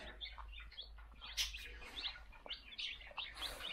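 Young chicks kept indoors chirp repeatedly in quick, high peeps, several birds overlapping at close range with a faint low hum underneath.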